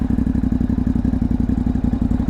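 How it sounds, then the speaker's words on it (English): A Ducati Hypermotard 950 RVE motorcycle engine runs close and loud, its rapid, even firing pulses forming a throbbing mechanical beat with no voices over it. "Right, let's fire her up."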